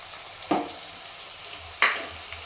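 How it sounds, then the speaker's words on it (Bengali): Ginger and garlic paste hits hot oil with frying chicken, giving two short bursts of sizzle about a second apart over a quiet, steady background hiss. "আদা বাটা রসুন বাটা সব একসঙ্গে বাটা আছে পেস্ট করা আছে তো সেটা দেওয়া হচ্ছে এবারে"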